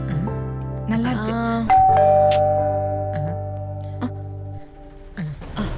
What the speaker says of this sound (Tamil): ரஞ்சிதா காலிங் பெல் அடிக்குதுல்ல, யாருன்னு போய் பாக்கறது தானே?